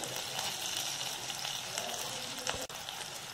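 Green chilies frying lightly in a pan for a dahi hari mirch dish, a continuous close sizzle with faint stirring and one sharp knock near the end.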